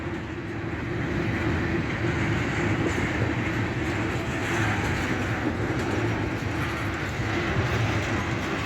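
A long freight train rolls past a railroad crossing in Florida, a loud, steady roar of wheels and rumbling cars with continuous rail clatter, close by and unbroken throughout, with no talking.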